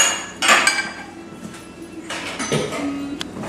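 A knife scrapes thick cashew barfi mixture off a marble cutting board in a few short, sharp scraping and clinking strokes, close by with no talk.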